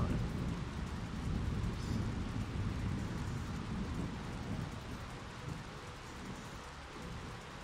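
Steady rain with rumbling thunder in the PlayStation 1 game Syphon Filter, a dense continuous wash of falling rain over a deep low rumble, evenly loud throughout.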